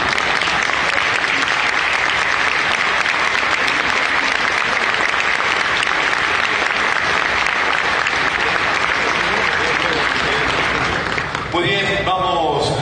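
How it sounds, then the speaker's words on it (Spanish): Loud, sustained applause from the audience at a Montevideo WiFi launch event, a thick wash of clapping that runs unbroken and fades out near the end. "podríamos sellar con un fuerte aplauso"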